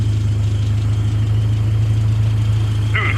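A Honda car engine idles steadily nearby with a low, even rumble, left running and unattended; a brief higher sound cuts in near the end.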